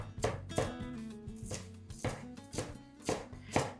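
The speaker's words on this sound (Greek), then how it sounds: "Ψιλοκόβουμε" A knife finely chops fresh dill on a cutting board, a rapid series of close, crisp thuds in uneven bursts of several strokes, quiet overall and free of talk.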